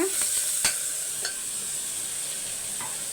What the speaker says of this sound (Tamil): இப்போ வந்து வதங்கட்டும் இப்போ பாருங்கள் நம்மளுக்கு நல்லா பாதி வதங்கிட்டுருக்கோம்